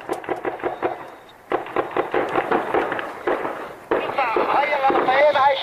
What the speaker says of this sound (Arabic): الدبابة عم تقصف فيي